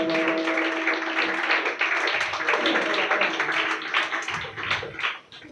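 An audience claps for a little boy at a prize-giving event, the applause a steady patter of many hands that fades out near the end, with a voice heard faintly.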